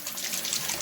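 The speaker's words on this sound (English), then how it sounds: "now let me rinse my hand off" Tap water runs steadily into a sink as a buttery hand is rinsed off during cooking, a close, even hiss with no talk.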